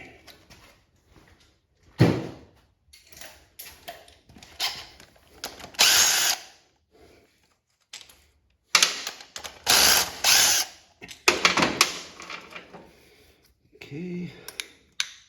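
Hand tools remove a foot peg from a 1985 Honda XL600R, with scattered ratcheting clicks, metallic clanks and scraping in short irregular bursts, close by and moderately loud, between quiet pauses.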